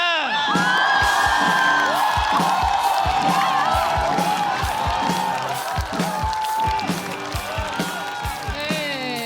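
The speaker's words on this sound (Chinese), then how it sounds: "掌声有请李卓言。" A live stand-up comedy audience cheers, whoops and shouts as a performer is welcomed to the stage, loud and sustained throughout, with a steady rhythmic pulse underneath.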